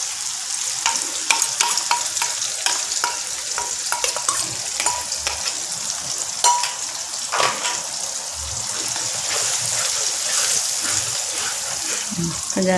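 Ground paste of cumin, fennel, pepper, coconut and poppy seed added to crab frying in a pan, with steady sizzling and clattering stirring strokes, close and moderately loud, with a brief murmur of voice near the end.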